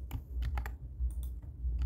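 Quick bursts of close computer keyboard typing, several crisp keystrokes in short runs with brief pauses between them.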